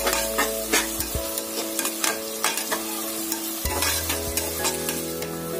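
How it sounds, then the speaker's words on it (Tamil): Onion and green chillies sauté in a pan while a spoon stirs them in repeated scraping strokes over a steady sizzle, close and moderately loud, with no voices. "இப்ப எடுத்து வச்சிருக்க பச்சை மிளகாவை இதுல ஆட் பண்ணுங்க. இப்ப ரெண்டுத்தையும் ஒன்னா மிக்ஸ் ஆகி நல்லா வதக்குங்க."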